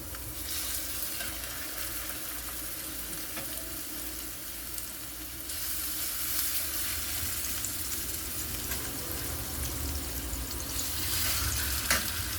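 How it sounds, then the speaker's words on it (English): Loud, continuous sizzling of steak frying in a hot pan, a steady crackling hiss that swells slightly midway, with no talking. "Nice sizzle"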